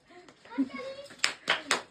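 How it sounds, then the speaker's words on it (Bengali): Hands clap together at a family birthday celebration, a few quick claps near the end following children's and adults' voices speaking over a quiet room. "হ্যাঁ হাততালি দাও, হাততালি।"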